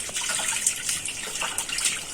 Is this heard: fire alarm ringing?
no